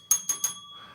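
A bell rings three times in quick succession, sharp metallic dings with a ringing decay, then fades into faint background noise.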